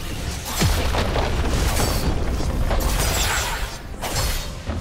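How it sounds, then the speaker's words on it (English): A turret blowing up in League of Legends, a heavy booming explosion with shattering debris, loud and dense, fading and then briefly swelling again near the end, with no talk. "Blue Team's turret has been destroyed."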